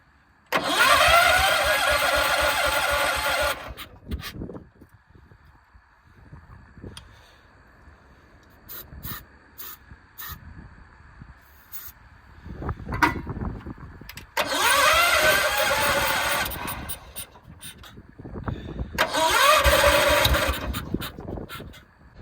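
A 1968 John Deere 140 H3 garden tractor engine cranks and catches in three loud bursts, each running a few seconds before cutting out, separated by quieter stretches of clunking and handling noise.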